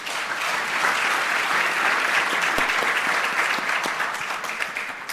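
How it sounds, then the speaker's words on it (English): A symposium audience applauds panelists with steady, dense clapping that holds at full strength for about five seconds, then begins to thin slightly near the end. "please give a warm round of applause to the panelists."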